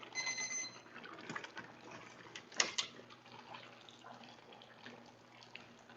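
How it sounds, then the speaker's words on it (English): Boiling water from cooked noodles is poured off into a kitchen sink, a faint splashing and trickling stream with a few louder clatters midway, preceded by a brief electronic beep tone, with no talking. "you want to strain out all the boiling water because this is going to dilute the soup"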